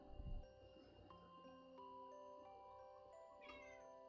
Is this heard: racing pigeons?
no